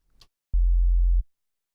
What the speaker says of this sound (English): we've just got a sine wave at the moment,